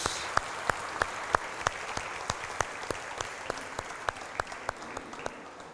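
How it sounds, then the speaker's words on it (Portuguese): A congregation at a church service claps in a steady, even rhythm, each clap sharp and distinct against a quiet noisy background, continuing throughout at moderate level with no speech over it. "Dê um forte aplauso àquele que é digno."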